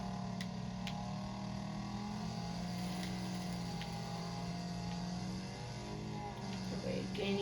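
A car in a demolition derby video game gains speed, its engine drone holding steady and loud the whole time with a rising whine layered on top.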